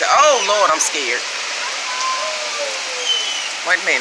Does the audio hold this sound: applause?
no